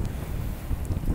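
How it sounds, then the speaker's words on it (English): Gentle ocean waves wash along the Australian coast on a calm afternoon, a steady soft rushing with some wind buffeting the microphone, no voices. "let you enjoy the gentle sound of the ocean"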